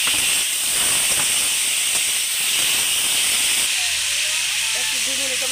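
Pineapple sautéing in a pan gives a steady, loud hiss and sizzle throughout, with a slight change in texture near the end as cooking continues.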